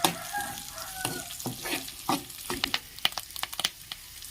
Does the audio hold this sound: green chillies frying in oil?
yes